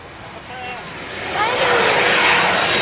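A Delta Bombardier airliner taking off at Ronald Reagan Washington National Airport, its broad engine roar swelling louder and closer across the clip, with voices talking over it.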